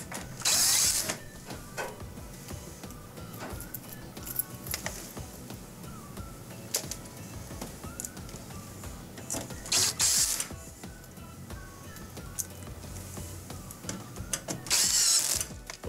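Screws are driven into the bottom bracket of a Maytag dishwasher during a soap dispenser repair: several short bursts of whirring and ratcheting tool noise, loud and close, with clicks and handling clatter between them.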